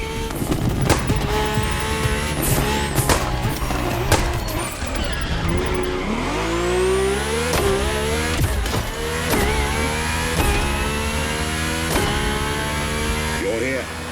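A Ferrari F40 or F50 racing in The Crew Motorfest, its engine revving loud and close and climbing in pitch through the gears, mixed with tire noise and background sound.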